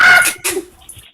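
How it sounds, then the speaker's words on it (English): A small dog gives a few sharp, close barks in quick succession, loud and alone. "That's another dog."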